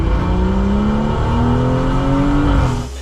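A BMW M240i with its B58 engine pulls hard through third gear and into the next, the loud, rising engine note climbing steadily, breaking at a shift, then climbing again before easing off near the end.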